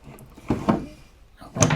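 Wooden drawers aboard the SS Rotterdam ocean liner being pulled open and pushed shut, a few short sliding thumps and knocks close by, separated by brief quiet.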